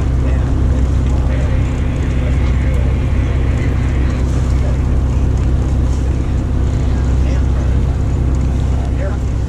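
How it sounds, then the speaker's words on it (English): Engines of boats arriving and rafting up at a river lock rumble loudly and continuously nearby, a deep steady drone with water and wind noise and a few faint voices underneath. "And boats still coming in."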